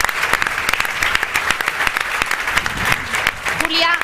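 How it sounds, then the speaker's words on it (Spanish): Audience applause at a Ciudadanos political gathering with European election candidates, dense sustained clapping from a large crowd throughout, fairly loud and close, with a few voices and a brief whistle-like tone near the end. "les dediquemos un fuertísimo aplauso porque se lo merecen"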